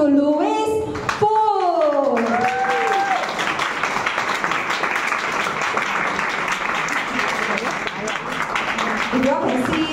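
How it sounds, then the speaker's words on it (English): Audience applause at a testimonial event for a speaker, a steady wash of clapping that follows a voice speaking at the start and carries through to the end. "Let us give a big round of applause to Louis Fu."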